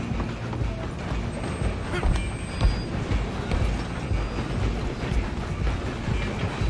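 A moving train rumbles steadily and close, a dense continuous roar with a clattering rhythm like hooves mixed in, holding an even loudness throughout.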